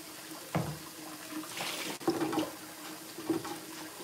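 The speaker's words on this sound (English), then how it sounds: "it's easy to just rinse off by hand" Tap water runs in a kitchen sink while a small item is rinsed by hand, giving a soft, steady stream interrupted by a few splashes and knocks at close range.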